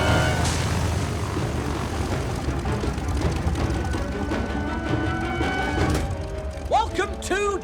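A propeller airplane in an action movie scene drones with a continuous engine roar, mixed with movement and commotion, and a voice speaks near the end.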